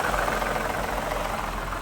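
A Mazda 6 engine idles with a steady, continuous drone and a faint mechanical ticking that could be a worn lifter or timing chain, close and even throughout, with no talking.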